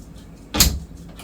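One brief, soft thud of an enclosure door for a Sri Lankan python swinging shut, heard close against a quiet background.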